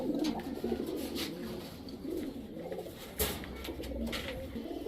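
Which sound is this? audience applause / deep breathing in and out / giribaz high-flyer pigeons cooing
giribaz high-flyer pigeons cooing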